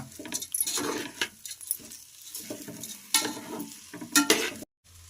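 Jeera rice stirred in a cooking pot with a spoon, giving irregular scraping and clinking strokes with a soft sizzle beneath, quiet and close.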